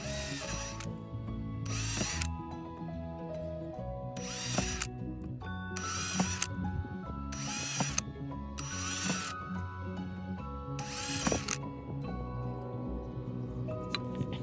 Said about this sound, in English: I'm going to drill an S pattern of holes on the water pipe